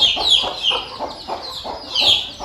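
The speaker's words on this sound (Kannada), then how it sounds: "ನೋಡಿ, ಇಲ್ಲಿ ಮರಿಗಳು ಇಟ್ಟಿದ್ದೀನಿ" Hens and chicks clucking and peeping close by in a chicken coop, a busy repeating chatter of short calls throughout.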